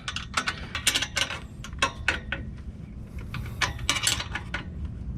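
A box wrench turns exhaust bolts by hand on a Honda Civic Si during a Skunk2 Mega Power exhaust install, making quick light metallic clicks and ratcheting taps in irregular bursts at close range.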